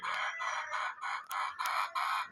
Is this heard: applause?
no